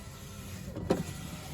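A Volvo power window regulator motor drives the glass in a steady, faint mechanical whir, with one brief louder thunk or squeak partway through.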